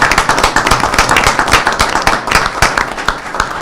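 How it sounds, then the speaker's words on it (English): Close, loud clapping fills a city council meeting chamber, a brisk irregular patter of many hands sustained across several seconds. "how about a round of applause for Pilot and investing in our community?"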